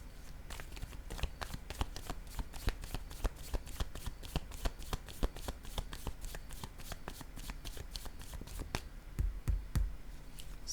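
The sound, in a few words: shuffling and laying down tarot cards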